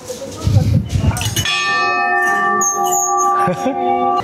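A bell at a hilltop lookout in Okinawa is struck and rings out loud and sustained, then is struck again, after a brief stretch of voices and movement at the start.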